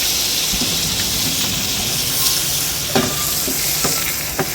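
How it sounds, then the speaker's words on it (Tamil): Quail eggs fry in butter and garlic with a steady, close sizzling hiss, punctuated by scattered pops and light spoon scrapes against the pan. "இப்படியே நல்லா வறுத்துட்டு எடுத்துருவோம்"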